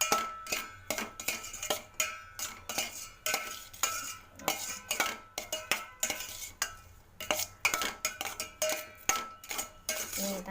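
Schezwan fried rice is mixed in a pan with a metal spoon or spatula, making a brisk, rhythmic run of scrapes and clinks against the pan, close and continuous with a faint sizzle beneath.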